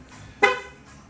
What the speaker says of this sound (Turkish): kapıları açtığımızda ve kilitlediğimizde ufak bir korna sesi yapıyor